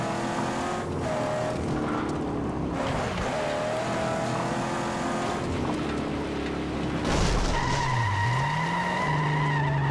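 A car in the Mad Max video game drives with a steady engine roar and tyres skidding, a sustained loud mechanical drone that swells near the end, with no talking.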